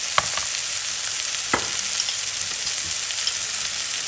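Onions sautéing in a pan, a steady close sizzle with faint scraping stirs and a few brief clicks, no talking.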